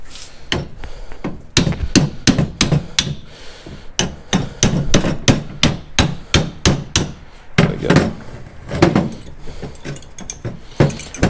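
Hammer tapping on the front brake clips of a 2009-2018 Ram 1500 during a brake job: a long run of sharp metallic knocks, loud and close, in quick uneven bursts with short pauses, no talk.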